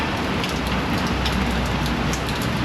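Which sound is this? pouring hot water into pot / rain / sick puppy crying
rain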